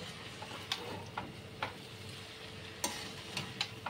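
Cooked rice mixed with salt in a bowl gives a soft, close shuffling with a handful of sharp scrapes and taps from the spoon against the bowl, irregular and quiet, with no voices.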